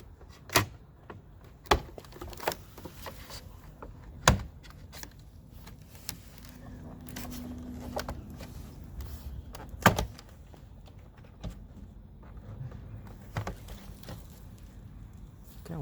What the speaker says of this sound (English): taking the clips apart, popping the clips out of the door.